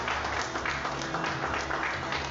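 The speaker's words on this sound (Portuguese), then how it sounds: "Vamos dar um aplauso para Jesus." Applause from a church congregation giving a round of clapping for Jesus during a Portuguese-language worship service, a steady dense wash of many hands at moderate level throughout.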